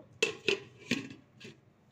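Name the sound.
covering the cooking pot with a lid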